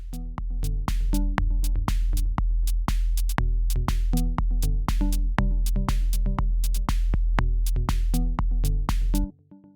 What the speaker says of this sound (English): And finally some hi-hats,